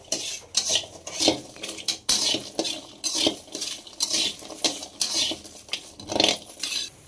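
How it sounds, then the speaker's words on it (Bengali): Rice dry-roasting in a pan, stirred with repeated scraping strokes of a utensil against the metal, a rhythmic series of close clinks and rustles over a faint sizzle, with no voices. "চাল ভাজা বাজিতেছে"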